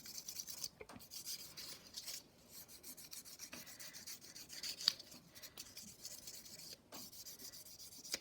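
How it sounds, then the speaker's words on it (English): Soft, close rubbing of a nail buffer working oil into fingernails, a steady quiet rasping stroke repeated in an uneven rhythm, with a few sharper scrapes and no talking. "So it's the buffer side to buff in the oil. You're going to give it a really good buffing."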